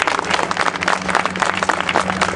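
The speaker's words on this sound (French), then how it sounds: "On peut s'applaudir." Marchers at a Toulouse protest demonstration on accessibility clap for themselves, a close, uneven patter of hands with scattered louder claps and some crowd noise.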